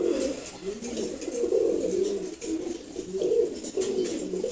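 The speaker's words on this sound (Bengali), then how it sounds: "অসম্ভব সুন্দর এক জোড়া কবুতর।" A pair of khaki pigeons coo close by in low, repeated, rolling calls that continue throughout, with faint background noise.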